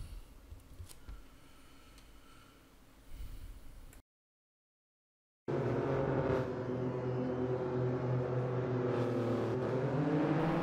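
Toyota GR Yaris race cars idle and rev on the grid before a reverse-grid race start, a loud steady engine drone that cuts out briefly, then returns fuller with rising revs.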